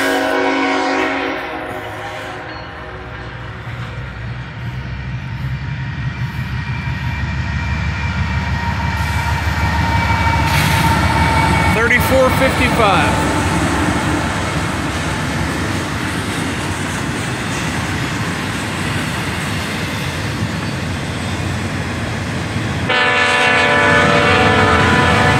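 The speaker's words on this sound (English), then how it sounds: "Now, this is going to be CSX freight. And if you can hear it, the horn difference." A CSX freight train rumbles steadily past at close range for the whole stretch, its horn sounding in long blasts over the rolling wheel and engine noise, with no talking.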